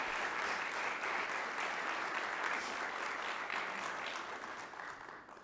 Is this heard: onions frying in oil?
no